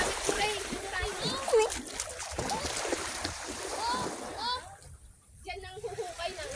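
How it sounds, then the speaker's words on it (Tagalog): Sea water splashing on a beach in Iloilo, with a steady wash of surf close by while people, including children, chatter and exclaim over it. "Yan ang dagat dito."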